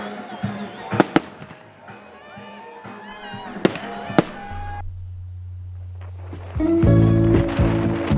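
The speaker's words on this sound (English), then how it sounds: "we enjoyed a great fireworks show on the beach" Sharp bangs and crackling bursts of fireworks on a beach in St. Lucia pop at intervals amid a murmuring crowd, then give way to a loud steady hum and rising background noise.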